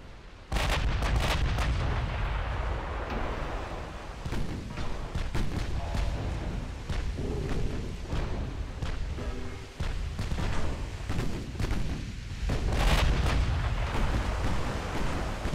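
Battleship and battlecruiser gunfire in the naval warfare game Ultimate Admiral Dreadnoughts, including secondary batteries firing high-explosive rounds: repeated heavy booming shots and rumbling blasts over a continuous dense roar of battle, with no talk.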